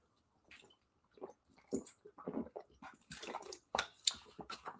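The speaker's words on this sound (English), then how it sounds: "Now, before we continue, though, let me take a swig of water." A person takes a swig of water, with close, wet gulping and swallowing sounds and small mouth noises in a quick irregular series, growing louder toward the end.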